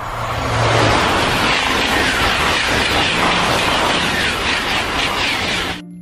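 A loud, steady rushing roar of a fast toy train, sustained for several seconds before cutting off abruptly near the end.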